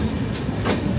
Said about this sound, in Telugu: మన ఆపోజిట్లో ఉన్న ట్రైన్ వచ్చేసి లింగంపల్లి జన్మభూమి సూపర్ ఫాస్ట్ ఎక్స్ప్రెస్ అనమాట